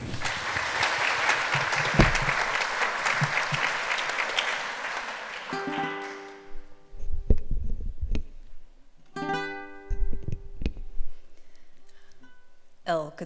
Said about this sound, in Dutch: Mag ik een groot applaus voor Janneke Jager.